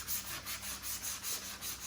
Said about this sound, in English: All right, so back to sanding.